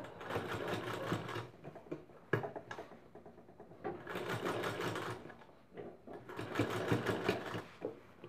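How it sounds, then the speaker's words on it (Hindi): Sewing machine stitching a fabric potli drawstring bag with a double seam, running in three long bursts separated by short pauses and a brief clack, steady and close. "इस तरीके से हमने इसमें चला दिया पूरा सिलाई"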